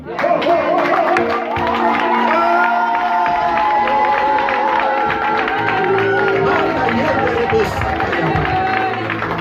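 A church congregation cheers and acclaims during a worship service, a loud, sustained roar of crowd voices and shouts blended with singing-like tones, never letting up.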